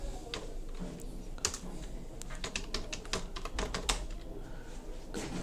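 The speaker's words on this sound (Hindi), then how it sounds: "जैसे आप नेट पे टाइप करेंगे" Rapid keystrokes on a computer keyboard come as an uneven run of close, soft clicks. The typing is fairly quiet, with a low background hum and no talking.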